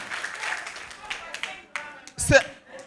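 At a children's holiday club semi-final, a group claps in a rhythmic pattern of sharp beats for the mothers present, under a speaking voice and ending in a louder burst.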